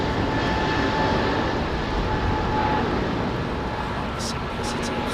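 A Swiss Airbus A320neo at Heathrow gives a steady, fairly loud jet roar with a faint high whine, fading slightly toward the end, while a voice talks briefly over it.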